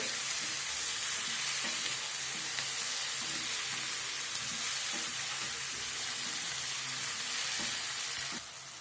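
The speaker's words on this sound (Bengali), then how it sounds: "কেটে রাখা একটা টমেটো দিয়ে দিব। এটা ভালো করে ভেজে নিব।" Chopped tomato frying in a pan, a steady dense sizzle that holds evenly throughout with faint stirring scrapes, dropping slightly in level at the very end.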